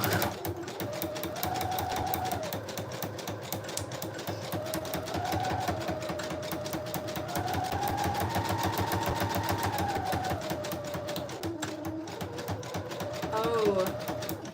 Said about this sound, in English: I'm gonna do a zigzag stitch.